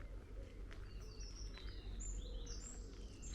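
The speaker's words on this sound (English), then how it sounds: "you can hear the birds tweeting" Birds tweeting near the river at Flint Castle in North Wales, several high chirps and short whistled calls scattered over a quiet outdoor background with low rumble.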